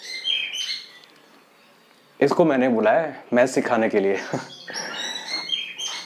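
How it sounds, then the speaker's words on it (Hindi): A small bird chirps and tweets in quick, high runs, fading out as someone talks, then starting up again at the end. "चिड़िया जो आवाज करे ना वो।"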